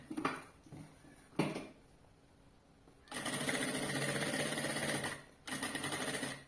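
A sewing machine stitches a pocket onto a bag that converts into a backpack, starting with short start-stop bursts, then running steadily in a loud, continuous rattle, pausing briefly and resuming close by.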